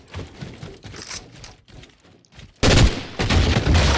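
Gunfire in the Fortnite video game: muffled, scattered shots over the first seconds, then a sudden loud burst of rapid firing that carries on through the end.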